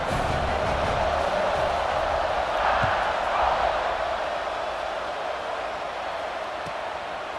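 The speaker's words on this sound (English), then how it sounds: "this crowd now ready to get behind them" A stadium crowd in EA Sports College Football 26 roars as a steady, broad wash of distant cheering noise that swells slightly midway and then eases, with no clear talk over it.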